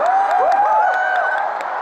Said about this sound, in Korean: 박수 한 번만